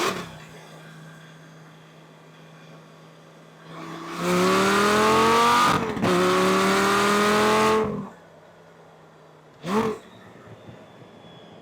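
Lamborghini Gallardo Concept S with its 5-liter engine accelerates hard in sport mode: a loud, rising engine roar through two gears with a brief shift break, then idle and a short blip, heard close.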